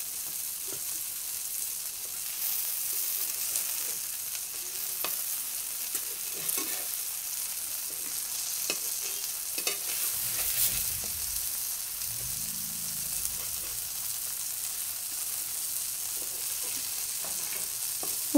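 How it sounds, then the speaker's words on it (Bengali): Brinjal pieces fry in a little oil, giving a steady close hiss and sizzle with intermittent scraping and clicking as they are stirred and turned in the pan, no one speaking. "সামান্য পরিমাণে আবার তেল দিয়ে বেগুনগুলো না উল্টে পাল্টে ভেজে নেব"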